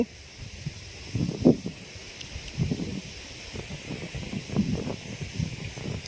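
Gusts of strong wind during a rainstorm buffet outdoors in uneven, rushing surges that swell and fade over a low hiss, with no voices.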